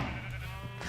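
A single sheep bleats on a sheep farm in Minecraft, one drawn-out, wavering baa heard close and clear with no talking.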